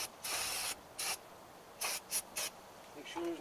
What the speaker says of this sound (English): You want to spray this down.